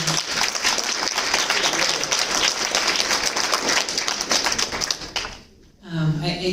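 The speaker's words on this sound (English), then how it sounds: "Can we give them a round of applause?" An audience at a town hall meeting applauds a panel with dense, sustained clapping for about five seconds; it then fades, and a voice briefly speaks at the end.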